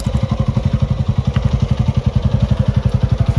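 A motorcycle on a Saturday group ride from Kathmandu to Lauki Jharna in Nuwakot idles close by with a fast, even, thumping engine pulse that stays loud and steady throughout.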